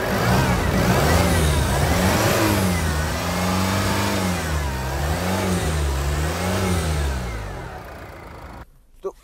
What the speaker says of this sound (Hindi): एक बार मैं आपको सेल्फ मार रहा हूँ इसका और इंजन की साउंड भी सुनाता हूँ।